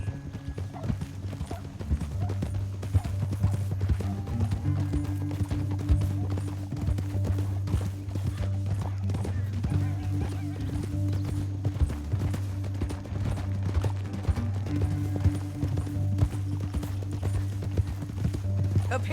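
Horses galloping in Red Dead Redemption 2, a steady drumming of hooves sustained throughout alongside a low rumbling game soundtrack, with occasional whinnies and brief bits of speech.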